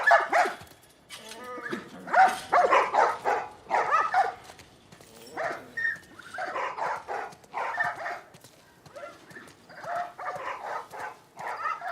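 Several dogs bark repeatedly in bursts with yips and whimpers in The Last of Us Part I, loud and close, barks overlapping in an irregular rhythm for the whole stretch.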